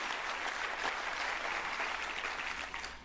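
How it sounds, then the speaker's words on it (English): A large audience at a city's State of the City address gives a round of applause, a steady full wash of clapping from a crowded hall that fades slightly near the end. "Please give Sandy a huge round of applause"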